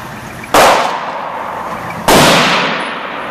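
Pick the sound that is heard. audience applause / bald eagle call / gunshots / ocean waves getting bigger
gunshots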